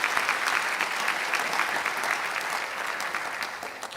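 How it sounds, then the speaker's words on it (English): Conference audience applause for the WTO Director-General at a trade and climate event, a full steady round of many hands clapping that holds strong for four seconds and eases only slightly toward the end. "Round of applause for the DG"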